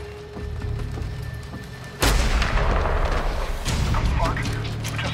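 A sudden loud gunshot in the shooter game Medal of Honor Warfighter, a sharp crack with a booming tail that follows a quieter stretch of game ambience and soundtrack.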